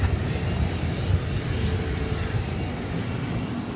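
Frontier airliner at DFW Airport at night, a loud, continuous engine roar with broad rumble, heard steadily at moderate distance without speech.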